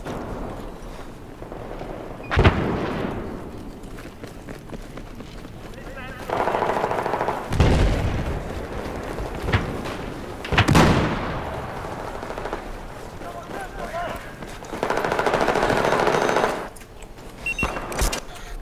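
Sniper shots and other gunfire in Battlefield 4 ring out as several loud, sharp cracks spread across a busy urban battle, with sustained firing in between and a voice talking at times.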